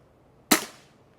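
A single sharp shot from an Air Venturi Avenge X Classic air rifle, close and loud with a quick decaying tail, alone in a quiet setting.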